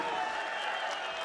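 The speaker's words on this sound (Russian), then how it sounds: "Колизей взрывается овациями, поддерживает местного спортсмена" A packed arena crowd breaks into a short burst of loud, continuous applause and cheering for a local MMA fighter, heard as a dense wash of clapping.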